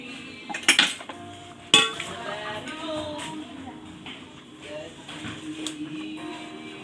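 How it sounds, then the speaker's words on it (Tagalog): Plates being washed in a kitchen sink, with dishes clinking and clattering in a couple of sharp bursts and softer rattling, while a voice talks over it. "Hugas ng plato."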